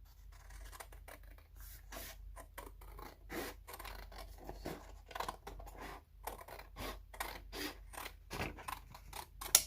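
Scissors snipping paper along a diagonal for a scrapbook album page, a close run of short crisp cuts in uneven bursts, with brief pauses between strokes and quiet rustling of the paper.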